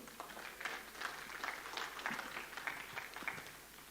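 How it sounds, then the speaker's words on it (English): A church congregation giving a clap offering during a sermon, steady clapping that sounds faint and distant, with sharper individual claps pulsing through the few seconds. "let's give the Lord a clap offering"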